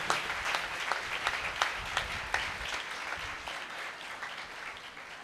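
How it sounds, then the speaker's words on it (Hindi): Loud, dense applause from a congregation after a procession honoring Mary at a coronation ceremony in a Catholic church, steady throughout and slowly thinning toward the end. "ज़ोरदार तालियों में आपको मुबारकबाद दी जाती है।"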